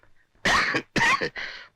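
Three quick, harsh coughs in close succession, near and loud, with short silences between them, from a person ill with cough and fever for two days.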